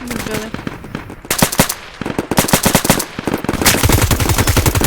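Bursts of rapid automatic gunfire from the Roblox game The Eastern War rattle in quick succession, some sharp single shots mixed in, ending in a fast steady volley.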